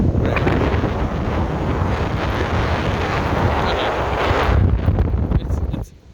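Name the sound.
strong wind at a beach at night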